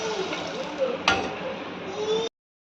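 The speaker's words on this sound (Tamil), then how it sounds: "இப்போ நம்ம மிக்ஸ் பண்ணி வச்சுருக்க புளி தண்ணியோட அதை அப்படியே ஆட் பண்ணிக்கலாம்" Tamarind water pouring into a pan of sautéed fish curry base, a steady liquid gush and slosh lasting about two seconds at close range, with a brief bright splash midway and no talking.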